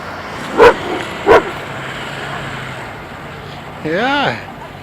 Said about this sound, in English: That dog went by.